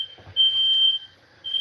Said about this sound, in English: that's the smoke alarm on because the roti pans have been